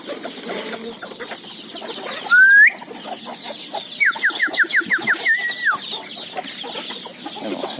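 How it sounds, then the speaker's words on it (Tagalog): Chickens being fed, with steady clucking and a few short, rising squawks that stand out near the middle, heard close by against faint farmyard background. "Ayan, patuka natin sa manok."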